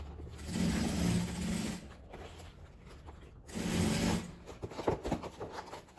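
Sewing machine stitching bias binding along the edge of a fabric storage box, running in two sustained mechanical whirring bursts with a pause between, followed by softer rustling handling of the fabric, moderately quiet and close.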